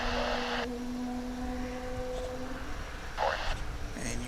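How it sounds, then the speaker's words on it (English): Spirit Airlines Airbus A320 engines at DFW airport make a distant, steady tonal howl with an eerie droning pitch, swelling briefly with bursts of hissing roar. "you probably could hear that distinctive howl that the engines of that plane emit"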